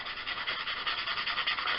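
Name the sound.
sandpaper sanding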